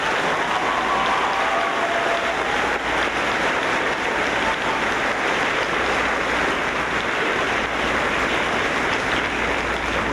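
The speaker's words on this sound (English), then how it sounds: "Please give these students a round of applause." Dense, continuous clapping from a sizable audience at an 8th grade promotion ceremony, a steady wash of applause that holds at the same level from start to finish.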